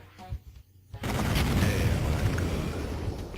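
Gunfire in Duke Nukem 3D starts with a brief, quieter stretch, then a loud sustained burst of shooting and booming game sound begins about one second in and runs to the end.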